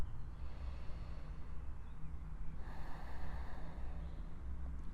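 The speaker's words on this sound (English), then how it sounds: "One more breath here." A deep, slow breath taken while holding a yoga pose, a soft airy inhale then a long exhale through the nose, close and quiet with no talking.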